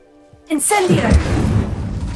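The Incendio fire spell cast in the Hogwarts Legacy video game bursts out suddenly as a loud, close whoosh, then rolls on as a sustained crackling roar for about a second and a half.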